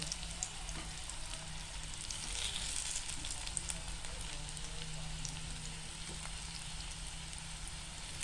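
Pea cutlets fry in a pan with a steady, close sizzle of hot oil, crackling and popping evenly throughout at low volume.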